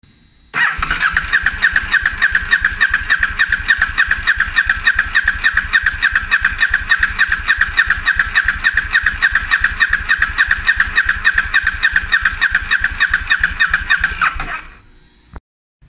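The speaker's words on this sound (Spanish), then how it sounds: "Vamos a ver el video de la moto que el arrancador gira más rápido." A KTM 1190 Adventure S motorcycle starter motor, which has a starting fault, cranks steadily and rapidly for about fourteen seconds in a loud, even whirring rhythm, then winds down and stops.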